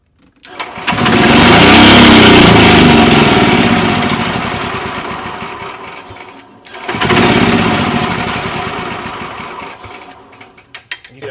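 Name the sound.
golf cart engine running on starter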